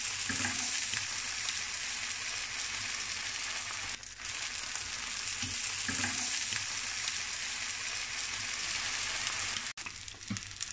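Farinato and pine nut blood sausage, casings removed, frying in a pan, a steady dense sizzle close up that continues unbroken apart from a brief dip near the end, no talking.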